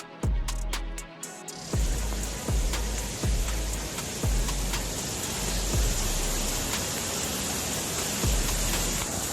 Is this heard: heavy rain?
yes